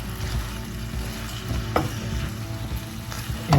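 Food with onion powder being stirred in a hot pan, a continuous close sizzle with soft scraping and stirring sounds and a louder scrape near the end.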